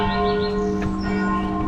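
Church bell at Poznań Cathedral Island ringing steadily, its sustained metallic tone and rich overtones filling the air, fairly loud and close, with faint bird chirps behind.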